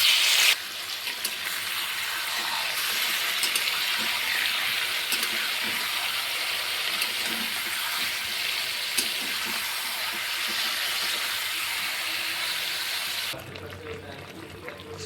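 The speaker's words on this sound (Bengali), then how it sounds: "এবার নুন হলুদে মেখে রাখা চিকেনটা দিয়ে কিছুক্ষণ ভেজে নিব" Chicken marinated in salt and turmeric fries in hot oil in a pan, giving a steady, loud sizzle that runs without a break until it drops away near the end.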